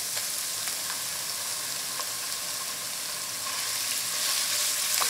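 Meat fries in a hot oiled pan for jjamppong, a steady close crackling sizzle that continues evenly throughout with occasional light pops and no talk.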